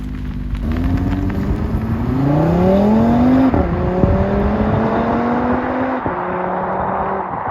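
Cupra Formentor VZ5 five-cylinder engine pulling on a wet road in cold weather, revving up through rising tones, then dropping pitch at gear changes and revving again, loud and close.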